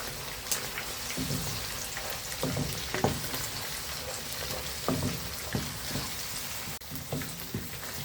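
Tamarind rice spice mix is stirred in a pan, producing soft intermittent scraping and a faint crackling sizzle at low volume, with scattered light taps of the spoon.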